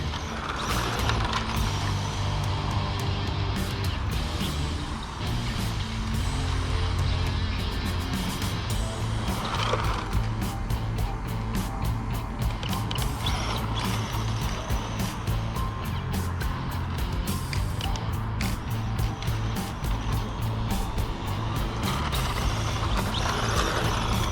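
A vintage Yokomo RC car fitted with a brushless motor runs continuously, giving a whining, whirring drivetrain buzz with rattling gear and mechanism clicks throughout, close and fairly loud.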